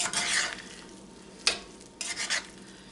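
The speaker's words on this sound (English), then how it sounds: "stir this up" A pot of sausage supper is stirred up partway through cooking, giving soft scraping strokes over a faint sizzle, with a sharper clank of the utensil near the middle.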